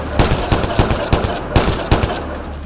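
Gunfire in Mass Effect Andromeda, a run of loud, close sharp shots in irregular bursts of two or three over steady game background noise, with no talk.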